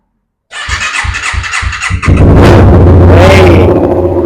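A Honda CBR250RR motorcycle starts after a battery change: the starter cranks in about five rhythmic chugs, then the engine catches and revs up loudly and close, settling into a strong, steady idle roar.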